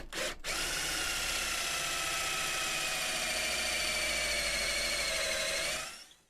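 A power drill boring a 10mm hole into a sycamore wood pot, a high steady whine with a brief start then sustained cutting for about six seconds before winding down, loud and close with no talk.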